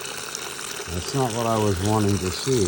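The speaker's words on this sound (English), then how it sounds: "Why is there water coming out here?" Water gushes steadily out of an engine's oil drain plug opening, running throughout while someone speaks over it in a dismayed tone.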